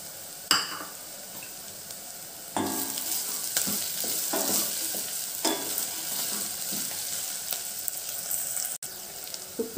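Green chillies and curry leaves fry in hot oil in a pan, with a loud close sizzle that jumps up as they go in, then a steady crackle with occasional stirring scrapes.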